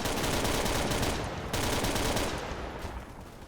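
Sustained automatic bursts from a DP-28 machine gun with its round top-mounted pan magazine in a World War battle game, dense rapid cracks filling the scene with a short break midway, loud and continuous.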